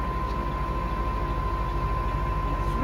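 A Lehigh MA-2500 tool room lathe spinning at a higher RPM, a loud steady motor drone with a constant whine running unbroken throughout.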